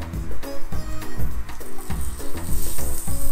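Butter sizzling on hot double jumbo cast-iron jaffle irons over a campfire, a steady loud crackle and hiss with irregular pops throughout.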